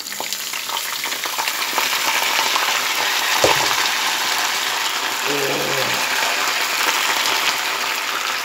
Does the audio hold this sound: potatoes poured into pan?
yes